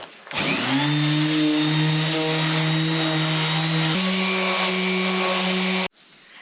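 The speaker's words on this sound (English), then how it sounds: "We're gonna use a round orbital sander, and then we're also going to use a belt sander for the sides." A power sander whines steadily on a cedar outdoor table and benches, a loud sustained motor drone whose pitch steps down partway through before cutting off abruptly near the end.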